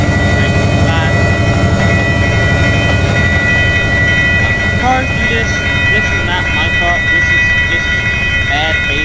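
A train rolls steadily through a signalled crossing in the Trainz railway simulator game, a loud continuous rumble with rhythmic clatter and occasional tonal chirps layered over it.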